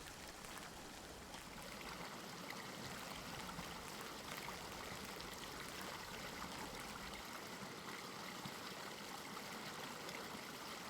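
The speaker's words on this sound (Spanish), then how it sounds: "Este es el río Duerna, un río modesto y discreto de tan solo 54 kilómetros de longitud" The Duerna river flowing, a steady, faint wash of running water with no pauses or voices.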